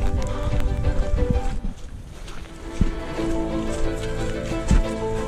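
Steady rain falls in woods during the Autumn 100 ultramarathon, a constant close patter mixed with rough wind buffeting on the microphone and a few sharper knocks.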